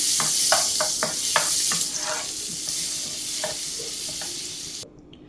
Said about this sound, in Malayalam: ഒരു 1/2 സ്പൂണോളം ഓയിൽ ഒഴിച്ചിട്ടുണ്ട്. കൂടെ തന്നെ നമുക്ക് ഒരു പീസ് ബട്ടറും കൂടെ ഇട്ട് കൊടുക്കാം. ഇതൊന്ന് മെൽറ്റായി വരട്ടെ.